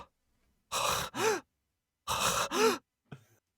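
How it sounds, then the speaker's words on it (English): Heavy breathing comes in two close pairs of loud, breathy sighing exhales with quiet gaps between them, followed by a faint trailing breath. "it was just heavy breathing, like you said"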